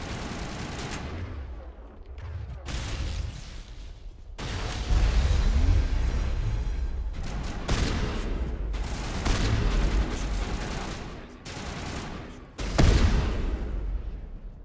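Shotgun blasts and assault rifle fire in Mass Effect Legendary Edition, heavy repeated bursts and booming shots with pauses between, loud and close, with no talking.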